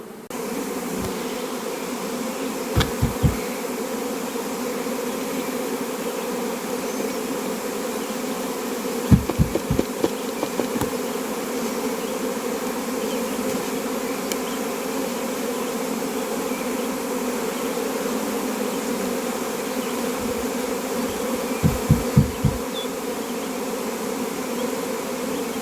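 Steady droning buzz of many honey bees around small nuc hive boxes, continuous and close, with a few brief knocks or taps scattered through.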